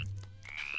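A frog croaks with a steady low throbbing call, close and fairly loud, running through the whole short moment alone with no talk.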